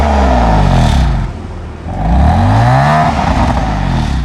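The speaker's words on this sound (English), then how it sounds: "So give it a rev." Car engine with stock exhaust in comfort mode and valves closed, revved loudly and close: a rising roar, a brief drop back toward idle, then a second climbing rev that holds, no talking.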